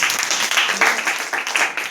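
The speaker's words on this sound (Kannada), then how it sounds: "ಇನ್ನೊಂದು ಚಪ್ಪಾಳೆ ಹೊಡ್ರಿ ಎಲ್ರಿಗೂ" At a school quiz show run in the style of a crorepati game, a crowd claps continuously for about two seconds, a dense, fairly loud patter of many hands with no break.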